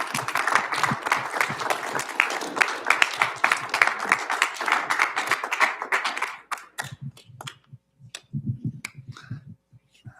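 Audience applause for a presenter at a professional presentations session, dense and fairly close for about six seconds, then breaking into scattered individual claps with some murmuring voices.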